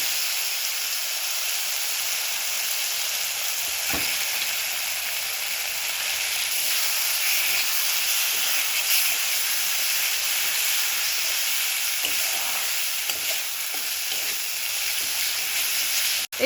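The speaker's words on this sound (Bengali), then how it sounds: "এবার এই মশলাটাকে ভালো করে কষিয়ে নিতে হবে যত সময় না পর্যন্ত এর থেকে তেল ছেড়ে যায়" Ginger garlic paste and spice masala frying in a pan, a dense steady hiss of sizzling oil that runs unbroken throughout, close and fairly loud, with a couple of faint knocks.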